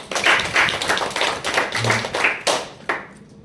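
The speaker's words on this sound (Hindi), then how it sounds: "इनके लिए भी आप लोग जोरदार ताली बजा दीजिए।" Audience clapping at a motivational talk, a close, fairly loud burst of many hands that swells and tapers, ending with a couple of final separate claps.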